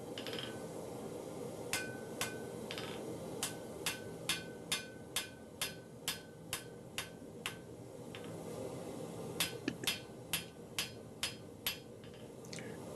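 A hammer forges a taper from spine to cutting edge on a knife blade, striking in a steady run of sharp metallic ringing blows, about twenty in all, close and clear over faint background hum.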